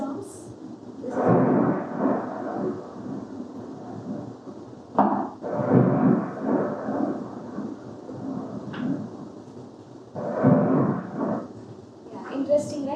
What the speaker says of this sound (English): and then on typing thunderstorms,